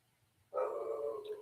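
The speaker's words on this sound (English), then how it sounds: "My dog is barking again, right?" A single dog bark, a short sharp yelp close by and fairly loud, rising suddenly out of near silence with no talk around it.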